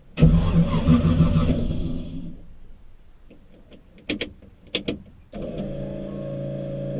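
A turbocharged 4.8 LS-swapped 1995 car engine roars loudly, dies away, then coughs through a few sharp cranking bursts before catching and settling into a steady, rumbling idle.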